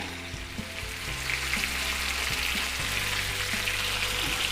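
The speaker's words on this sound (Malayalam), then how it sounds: "ഫ്ലെയിമിൽ വെച്ചിട്ട് വേണം നമുക്ക് ഫസ്റ്റ് ഒരു മിനിറ്റ് വീതം 2 സൈഡും ഒന്ന് കുക്ക് ചെയ്തെടുക്കാൻ" Lemon pepper chicken fries on a high flame in a pan, a steady close sizzle and crackle running throughout with no talking.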